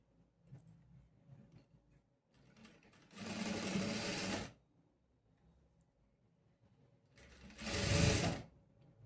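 A sewing machine stitches the side seam of a three-dart blouse. It runs in two separate bursts of rapid, close stitching, with quiet handling sounds in between.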